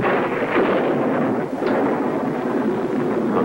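Thunder from an electrical storm during a windstorm, a dense, continuous low rumble that rolls on steadily for several seconds, loud and broad.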